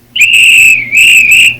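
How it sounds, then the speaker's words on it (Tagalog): A whistle is blown close by in two long, loud, shrill blasts separated by a brief gap. "Sino po yung pipipito dyan?"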